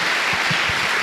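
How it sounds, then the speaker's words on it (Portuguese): A church congregation applauds in a worship service, a brief, steady wash of many hands clapping together. "Dê uma salva de palmas ao Senhor."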